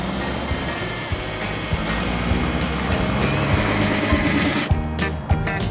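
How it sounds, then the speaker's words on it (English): A power drill spins a spade bit through a boat hull, a loud continuous whine with grinding, uneven bursts as the bit bites, briefly easing near the end. "Then we're going to follow up with the spade bit."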